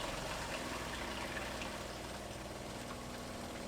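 Water runs from a tank through a van's plumbing system toward a filtration stage, a steady, faint rushing flow that holds unbroken throughout, with no voices.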